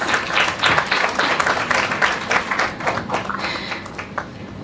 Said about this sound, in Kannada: ಚಪ್ಪಾಳೆ ಸದ್ದು ಕೇಳಿಸ್ತೀರಾ? ಕಮಾನ್ ಆಡಿಯನ್ಸ್.